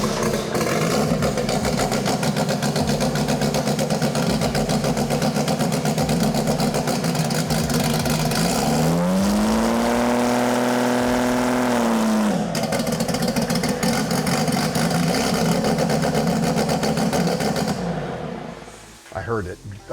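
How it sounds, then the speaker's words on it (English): A 2700+ hp VL drag car sits at a loud, rough idle close by; around the midpoint a smooth sweeping dip drops the revs, then the engine settles back to its steady idle before cutting off at the end. "I heard the engine RPM drop"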